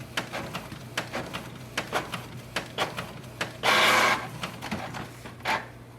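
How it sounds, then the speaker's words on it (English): A Canon Pixma G6000 inkjet printer runs a nozzle check print, giving a series of sharp mechanical clicks and ticks in an uneven rhythm, a louder whirring burst partway through, and a steady low hum beneath. "click on the nozzle check and we'll see if it has improved the print quality or not"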